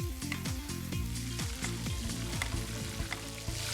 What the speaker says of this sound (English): keep brushing the steak this way for 2 to 3 minutes until the steak is ready and completely cooked